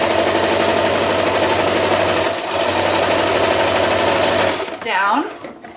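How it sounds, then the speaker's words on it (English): Sewing machine stitching through the layers of a fabric oven mitt, a fast continuous mechanical whir held at steady loudness for several seconds before stopping, close up with no talking. "I'm going to sew about an inch or so"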